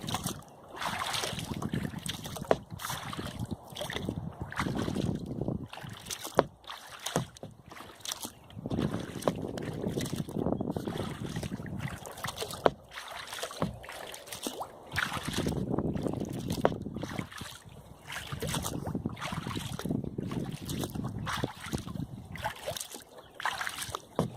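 A kayak on a Vermont river current near a dam, with wind blowing against the paddler; steady rushing wind noise and water swash with rhythmic paddle strokes, close and continuous, no talking.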